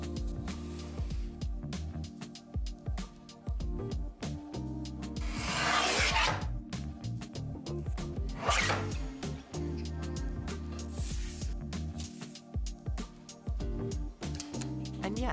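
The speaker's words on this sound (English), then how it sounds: "I'm going to test that I can cut an accurately sized shingle blank using this tool" A shingle blank for a model house roof is cut from sheet material with a small chopping tool, giving quiet, close clicks, scrapes and rubbing with a few longer rasping strokes.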